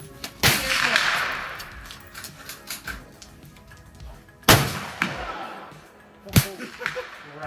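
Shotgun slugs fired at a rifle range: three sharp, loud reports spaced a couple of seconds apart, each with a brief ringing tail, over quiet outdoor background.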